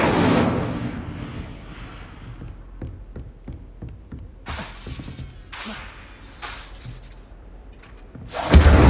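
Incendio fire spell cast in Hogwarts Legacy, opening with a loud whooshing burst that decays, followed by a series of sharp crackling taps, several bright hissing flares, and a final strong blast.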